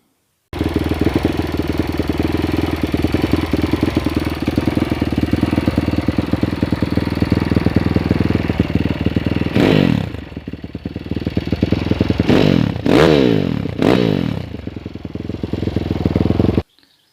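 A YCF four-stroke motorcycle engine idles steadily at close range with a continuous low clattering drone, then blips and revs briefly several times near the end before settling back to idle.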